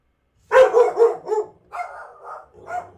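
Dogs bark indoors in a quick burst of several loud, close barks, then give a few lower, softer yips and whines with short gaps between them.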